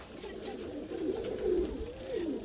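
A Miyan Nazir pigeon, a fancy breed, gives soft, low, rolling coos, faint and close by in a quiet room.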